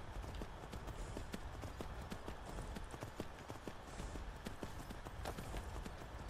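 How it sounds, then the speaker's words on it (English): Horse hooves in Skyrim clip-clop in a steady walking rhythm, fairly quiet and continuous, with no other sounds standing out. "And my horse was just walking back."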